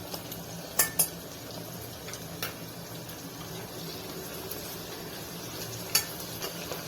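Chopped onion and ginger-garlic paste stirred in a pan, a faint low sizzle under a few light spoon clinks against the metal, quiet and close, with no talking.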